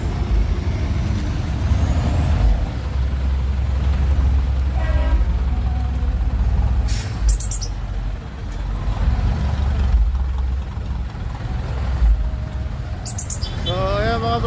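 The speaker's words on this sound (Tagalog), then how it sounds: "Napaka-traffic na naman dito sa Ortigas Avenue Extension." Heavy traffic crawls along Ortigas Avenue Extension toward Tikling, with a steady low rumble of trucks and cars, a short horn toot, and hissing air brakes rising briefly near the end.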